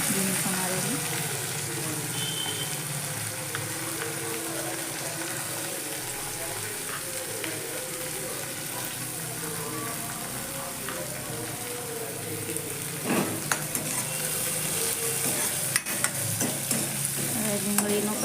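Finely chopped onion and green chillies sauté in a pan with a continuous hissing sizzle and occasional stirring clinks, steady and close throughout.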